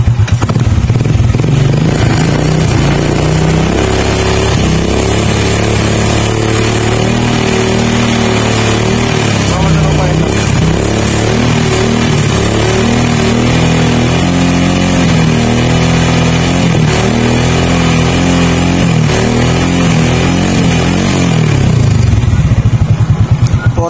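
A Honda XRM 125 motorcycle with a fullwave electrical conversion runs loud and close, its single-cylinder engine idling and repeatedly revving up and down, with mechanical clatter and no speech over it.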